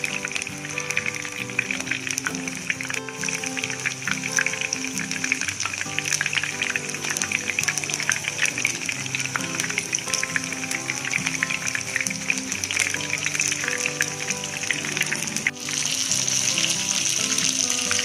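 Fish frying in oil over a low flame, a continuous even sizzle and crackle with a steady hiss that holds for the whole stretch, close and fairly loud.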